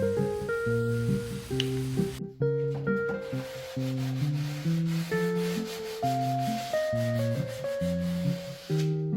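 Steady rubbing of sandpaper on a vintage waterfall cedar chest continues throughout, partly masked by a melodic tune playing over it.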